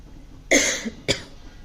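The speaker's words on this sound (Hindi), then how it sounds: "सॉरी खांसी आ गई थी मुझे" Two dry coughs close to the microphone, the first longer and raspy, the second short, with quiet background between them.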